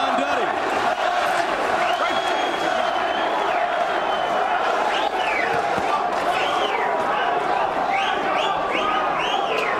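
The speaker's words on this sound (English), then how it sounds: "Now the crowd trying to get behind" A boxing arena crowd roars in sustained cheering for John Duddy during his middleweight fight with Luis Ramon Campas, with scattered whoops and shouts rising above a dense, loud wall of noise, along with commentators talking over it.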